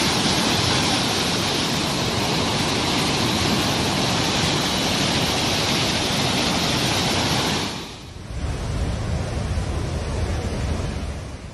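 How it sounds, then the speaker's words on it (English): Loud, steady roar of a flooded river rushing after heavy rain, thick with soil and debris, fills the scene, a broad continuous wash that dips briefly before surging back. "the river water became thick and orange as soil and debris were carried downstream by flood currents"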